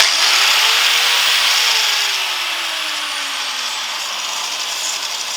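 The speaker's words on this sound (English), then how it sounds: "An angle grinder." An angle grinder spins alone, loud and close, with a bright, steady whine and a harsh high-pitched rush that slowly drops in pitch and eases slightly as the disc winds down.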